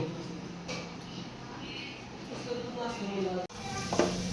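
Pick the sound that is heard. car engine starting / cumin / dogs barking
cumin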